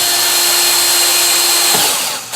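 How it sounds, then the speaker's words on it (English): A power drill with a step drill bit whines loudly and steadily up close, cutting a hole through material, then winds down at the end. "This is a step drill."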